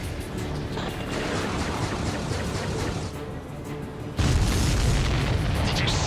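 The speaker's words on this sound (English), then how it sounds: "Did you see that explosion?" A loud, rumbling explosion blast in the video game Ace Combat 7: Skies Unknown roars continuously, then a second heavier boom hits sharply and the crashing roar continues at full strength.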